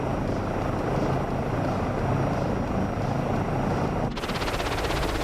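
Helicopter in Microsoft Flight Simulator 2024 flying over Sydney, a loud steady rotor and engine drone that holds throughout, then shifts abruptly to a rapid chopping pulse near the end.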